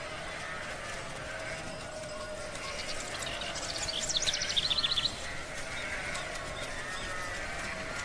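Sheep in a flock herded with working dogs let out a short cluster of bleats midway, quick overlapping calls rising above a steady outdoor background hiss, moderately near.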